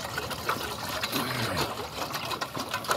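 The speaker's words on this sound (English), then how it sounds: "I'm going to pour this water into this pan and get it boiling" Water poured from a container into a pan set over a campfire outdoors, a steady close splashing and trickling wash that runs unbroken for about three seconds.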